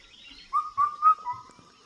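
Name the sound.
kafal pako bird calling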